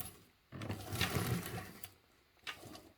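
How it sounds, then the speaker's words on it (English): A sewing machine runs topstitching on a duffle bag, starting with a near, steady mechanical whir that carries on and slows, then breaks into a short second burst. "So you want to keep your top stitching as neat and tidy as possible."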